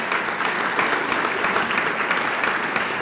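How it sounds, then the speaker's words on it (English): Audience at a school academic excellence awards ceremony applauds a forensics award winner, with continuous, even clapping from a sizeable crowd throughout. "let's give one more hearty round of applause to all of our Forensics Award winners"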